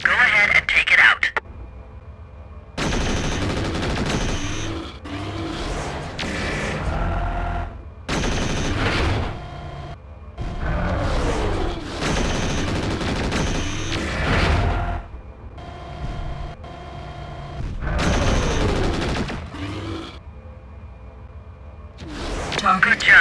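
Mech weapons fire at a turret in MechWarrior 4: Vengeance, with bursts of gunfire and booms recurring in clusters between brief pauses, under game radio voice and effects.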